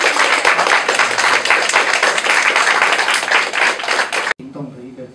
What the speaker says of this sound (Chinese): 我们大家掌声来欢迎。